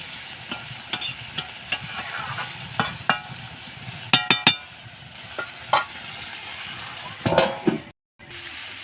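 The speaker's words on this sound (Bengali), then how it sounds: "নাড়তে হবে কিন্তু খুব হালকা হাতে।" Vegetable chachchari being stirred gently in a pan, with soft scraping and light sizzling strokes at an easy, irregular pace, a few sharper clinks of the spoon against the pan, heard close up with no talking.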